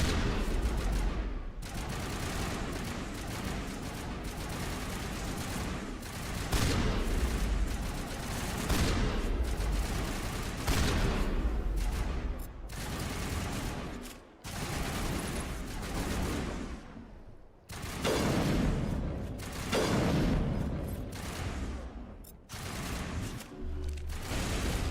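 Dense video game gunfire from a crossfire battle in Mass Effect, with rapid overlapping automatic bursts and booming shots filling the whole stretch. The firing pauses briefly a few times, then comes back loud and close.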